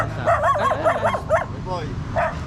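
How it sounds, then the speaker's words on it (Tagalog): A dog near a waterfall trail gives a run of high yips, whimpers and short barks, close and fairly loud over a steady rushing background, with a brief pause before another whine. "Oh, cute ng aso guys."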